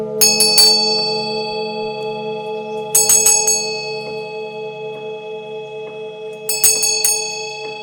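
A tuned bell from a full moon singing bowl set is struck three times at even intervals, each bright metallic strike leaving a long, pure ringing sustain that blends with the bowls' steady resonant hum.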